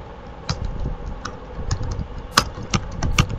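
Keyboard typing while entering a file name in Photoshop, a scatter of separate clicking keystrokes at an uneven pace over low background noise, close and moderately loud, with no voices.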